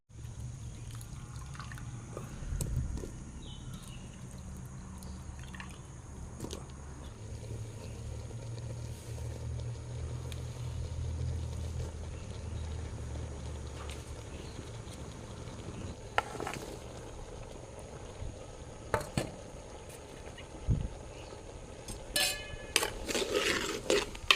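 Mango, soya and dried fish tipped into a pot of cowpeas already boiling, with clinks of utensils on the pot and splashing of added ingredients over a low steady simmer, louder handling bursts toward the end.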